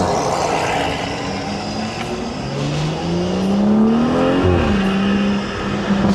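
A Stage 2 BMW 340i engine revs hard and loud up close, its pitch climbing steadily through a long pull, then dropping and climbing again as it accelerates, with no talking.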